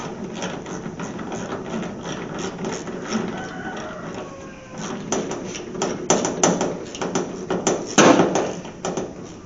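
A ratchet smacks metal during a fuel pump replacement on a Chevy or GMC truck, a series of sharp clanking taps that grow louder and denser toward the end, over faint workshop noise.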